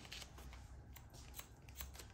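Barber's scissors snipping long hair while a comb works alongside, a steady run of close, crisp metallic cuts repeating through the whole stretch with no talk.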